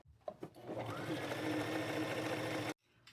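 An electric sewing machine stitches down the legs of a jumper made from kitchen towels in one continuous fast whirring run of close, steady rattling that stops abruptly, preceded by a few small clicks.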